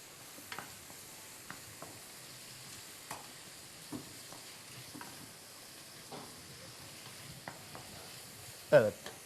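A quiet, steady sizzle of meat and onion frying in a pot, punctuated by scattered clinks and scrapes of a utensil stirring, ending with a louder clatter.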